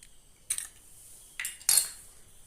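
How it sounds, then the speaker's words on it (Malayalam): An egg is cracked into a mixer grinder jar, giving three short, sharp clinks and taps on the jar spaced about a second apart, close and fairly quiet against near silence. "ഒരു മിക്സിയുടെ ജാർ എടുത്തിട്ടുണ്ട്. അതിലേക്ക് ഒരു മുട്ട പൊട്ടിച്ചൊഴിച്ചു കൊടുക്കാം."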